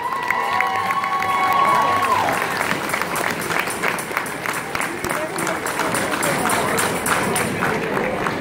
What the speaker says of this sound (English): Let's have a great big round of applause.